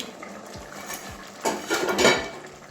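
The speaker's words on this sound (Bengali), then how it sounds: "আবারও ঢাকনাটা খুলে দেখছি" A lid lifted off a cooking pot of cauliflower fritter and egg curry, with short metallic clanks and scrapes of pot and utensil, louder rattling toward the end, close by with no voices.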